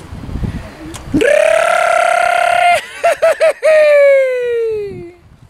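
A herder's long, loud sustained calling cry in the Aubrac, broken by several quick yodel-like breaks before a final drawn-out note that fades, with faint murmuring around it.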